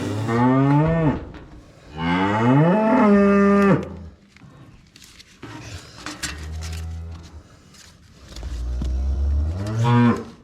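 Cattle moo in long, loud, drawn-out calls, two close together then a pause and more lowing, with a farm-yard clatter between calls.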